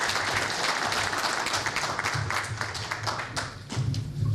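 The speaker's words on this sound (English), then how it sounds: "please, everyone give a round of applause to Randy Atkinson" An audience at a candidates forum applauds Randy Atkinson with sustained, dense clapping that fills the room, holding steady for several seconds and fading slightly near the end.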